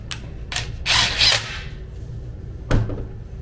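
A power tool tightens a 2-inch hose clamp on a DIY transducer mount, with short whirring, ratcheting bursts separated by pauses and a final sharp click-like burst near the end.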